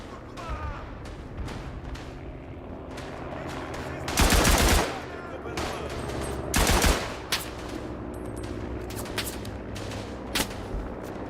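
Two loud, dense bursts of machine-gun fire in the World War I shooter Tannenberg on the eastern front, each lasting about a second, rattle over a background of distant battle noise.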